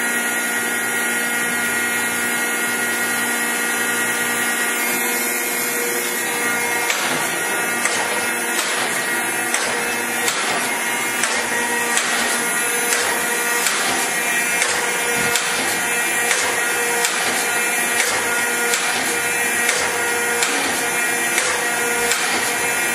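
A Rockford 24-inch hydraulic shaper runs at its highest speed, giving a steady, loud mechanical drone with a regular rhythmic clatter from the ram strokes and no talk over it.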